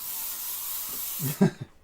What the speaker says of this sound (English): Hear the spray?